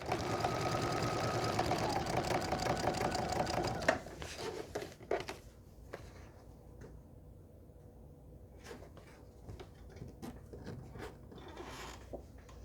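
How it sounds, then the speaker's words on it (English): A sewing machine stitches a cat quilt block, running steadily for a few seconds and then stopping, followed by scattered quieter clicks and mechanical handling sounds. "Lining up the very tip of the square with the needle, taking 1 or 2 stitches"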